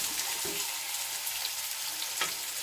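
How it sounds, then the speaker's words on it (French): Potato chunks sizzle with softened onion in sunflower oil inside a cooking pot, a steady crackling fry with a couple of brief stirring scrapes, close and continuous. "j'ajoute mes pommes de terre en morceaux dans la cocotte"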